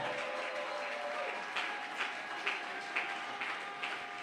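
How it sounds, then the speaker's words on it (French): A church congregation applauds in a steady, diffuse wash of clapping that fills the hall, with faint louder claps or taps recurring about every half second. "Acclame encore très fort si tu n'es pas jaloux."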